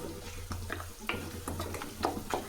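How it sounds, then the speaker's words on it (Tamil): Ginger is sautéed in a pan over a low flame for lemon rice. A quiet, faint sizzle sits beneath a handful of distinct spatula clicks and scrapes spaced irregularly through the short stretch, with no one talking. "தீ கம்மியில் வச்சுட்டு வதக்குங்க"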